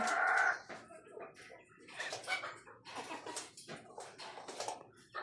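Laying hens in a poultry flock, some with watery droppings, clucking close by with a loud squawking call at the start, then a run of repeated cackles and clucks throughout.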